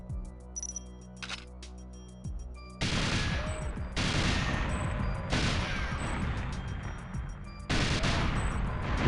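GoldenEye 64 gunfire as lockers are shot, a series of loud sustained bursts of rapid shots separated by brief pauses, with small metallic game clicks and beeps between them.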